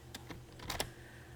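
Parentheses keyed into a calculator: a quick run of about five crisp plastic key taps, close and fairly quiet, bunched toward the middle with two louder presses.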